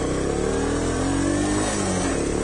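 A Honda CT110 motorcycle engine revs steadily with its idle set too high, a continuous close, loud mid-pitched drone lasting a couple of seconds with no one talking.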